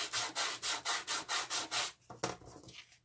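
Embossed card is sanded with quick, even back-and-forth strokes, about eight steady rasping passes close up, then a few looser scrapes and a brush-off.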